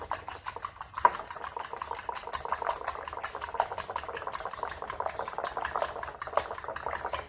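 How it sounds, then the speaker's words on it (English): Eggs with pepper are whisked in a bowl, making a fast, even run of light ticking clicks that carry on through the stretch, quiet and close. "And then we just whisk it all up"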